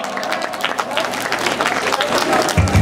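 Guests at a baptism celebration during a wedding in Agua Fría, Copala, clap loudly and continuously amid crowd chatter and talking voices.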